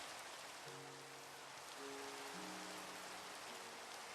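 Steady, soft rain hiss falls in Minecraft 1.16.5, a faint even patter heard alone, with brief tonal game sounds rising over it partway through.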